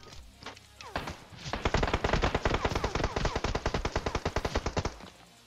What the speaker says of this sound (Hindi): जहाँ पे भी जा रहा हूँ वहाँ पे गोली पड़ रही है